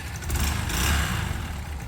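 Yamaha YBR motorcycle engine running close by, a steady low rumbling putter with a brief swell in the middle, no talk.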